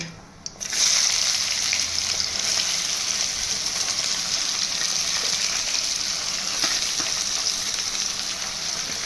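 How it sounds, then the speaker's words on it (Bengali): Onions drop into hot oil already seasoned with crushed cloves and bay leaves for a country chicken curry, setting off a sudden loud sizzle that holds as a steady, close frying hiss. "পেঁয়াজগুলো লাল লাল করে ভাজবো।"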